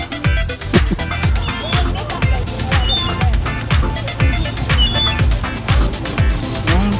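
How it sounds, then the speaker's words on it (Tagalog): Birds squawk and call repeatedly at a park by the water, over a steady backdrop of jet ski engine drone and water noise, with occasional chirps cutting through the mix. "Babait ng mga ibon, ano?"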